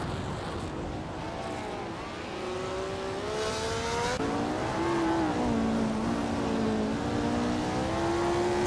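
Racing car engines from a racing video game roar at the Barcelona Retro Track, a classic Honda among the field, engine notes rising and shifting as cars accelerate, loud and continuous with no talk.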